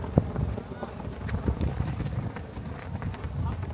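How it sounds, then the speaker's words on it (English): Wind gusts buffet the microphone on a breezy island in Vietnam, producing a steady low rumble with irregular thumps that continues throughout, close and fairly loud. "This wind is annoying."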